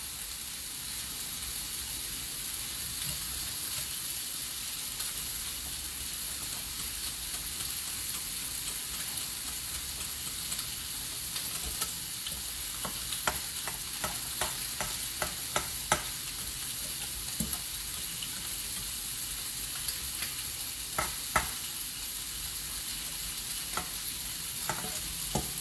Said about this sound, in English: So just take your time and stir.